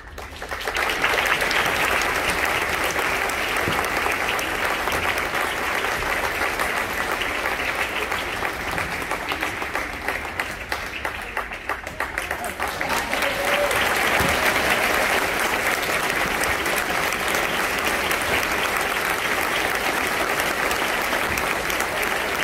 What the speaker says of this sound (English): Family and friends, please give them a very well-earned round of applause.